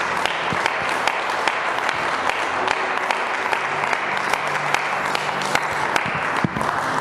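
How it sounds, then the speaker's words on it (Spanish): A church congregation claps steadily for several seconds, a dense, continuous wash of hands with no break, filling the room at moderate loudness. "Denle el aplauso al Señor Yeshua"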